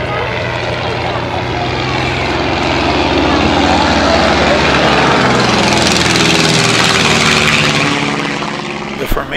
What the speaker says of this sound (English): The two aircraft plan a second pass in close formation.